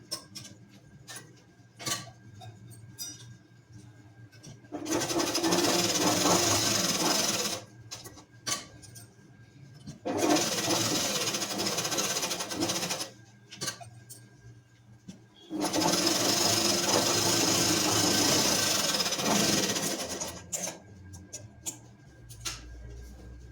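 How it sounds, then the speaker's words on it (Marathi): A sewing machine stitches a design onto net fabric in three long, steady runs, each a few seconds, separated by pauses filled with faint clicks and handling noises. "कुठल्याही डिझाईनच्या वेळी शक्यतो जेव्हा मशीन थांबेल तेव्हा सुई खाली ठेवण्याचाच प्रयत्न करायचा"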